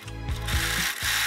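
A sewing machine stitches through layered denim from old jeans in a few quick rattling bursts, mechanical clatter rising and pausing, close and fairly loud with no talking.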